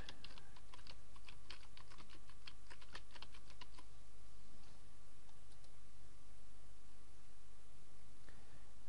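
Computer keyboard typing a search query, a quick burst of close, crisp key clicks over steady background hiss that then stops, leaving only faint room noise.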